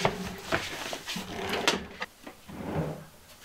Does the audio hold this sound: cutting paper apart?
no